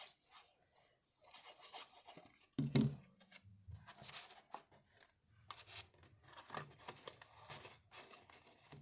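Scissors snip and rasp through paper craft pieces for a decorative shoe-and-box project, quiet scattered cuts and rubbing with one sharper crunch near the middle, close and without talk.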